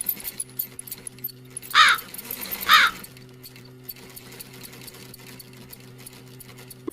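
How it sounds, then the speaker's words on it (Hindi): A sewing machine hums steadily at low volume while two sharp, bird-like calls ring out about a second apart. "वो अपनी माँ की सिलाई मशीन निकाल कर उस पे सिलाई करने लगती"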